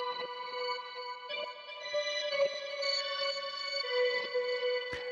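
Omnisphere synth melody pattern played two octaves up, a thin, high bell-like line of sustained tones with soft note changes, fairly quiet and alone, ending on a short sharp hit.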